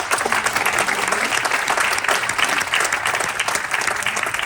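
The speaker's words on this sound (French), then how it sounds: "je vous invite à l'applaudir." A crowd at a political rally in Trappes against raising the retirement age to 64 applauds their deputy, with sustained, dense clapping that stays loud and steady throughout.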